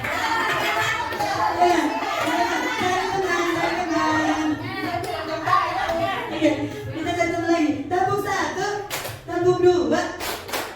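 A class of children claps together in quick rhythmic bursts in a teacher-led counting clap game, mixed with children's voices and classroom chatter.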